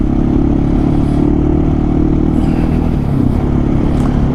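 A motorcycle rides off-road over loose gravel along a roadside on a South Africa to Namibia border route, its engine droning steadily and loud up close amid constant rumbling clatter.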